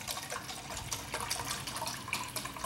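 Coconut rum pours in a steady stream into a measuring pitcher, a continuous close splashing gurgle lasting a few seconds with no talking.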